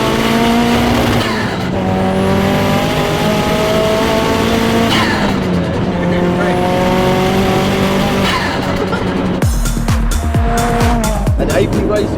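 A Nissan S15 with turbo and AP Racing brakes pulls hard on a short street straight, its engine climbing through several gears with loud rising revs and tire squeal in a continuous, close, aggressive roar.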